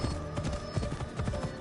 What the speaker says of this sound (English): I need to take this horse to either Adonis or to the stable boy.